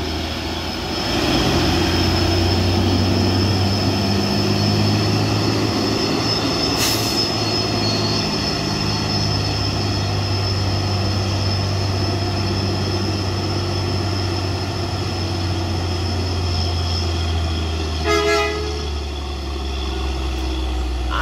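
A Mitsubishi L300 truck labours up the steep Kedabuhan hill, its engine droning with a steady low hum and strained whine, close and loud, with brief clatters and no talk.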